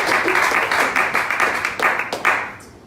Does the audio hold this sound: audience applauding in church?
yes